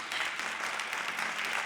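A church congregation claps in a dense, even burst of applause that fills the room for under two seconds, with no voices standing out.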